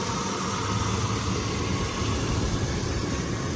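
A 2001 Chevy Silverado extended cab truck with the 5.3L V8 idles steadily, a continuous broadband engine drone with constant loudness and no talking.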